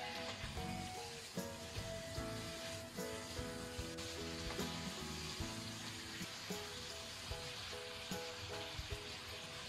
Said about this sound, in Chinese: 调料都放好了以后，我们快速的用铲子翻炒均匀。